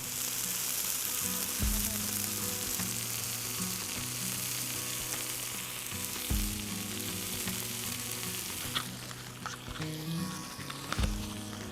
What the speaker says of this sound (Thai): กินหมูกระทะดีกว่าทุกคน